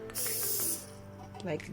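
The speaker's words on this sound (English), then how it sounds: "Make sure you spray it from a distance," A short hissing burst of cooking spray from an aerosol can into a pan, followed by a brief quieter spritz, with a voice speaking faintly underneath.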